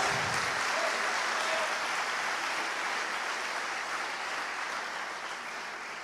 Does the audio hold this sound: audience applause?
yes